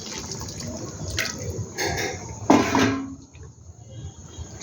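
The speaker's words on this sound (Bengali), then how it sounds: "ওই বাটিটা ধুয়েই আমি একটু জল দিয়ে দিচ্ছি।" Water is poured from a rinsed bowl into a pot of chicken cooking without oil, giving a few short, soft splashes and trickles up close in a quiet kitchen.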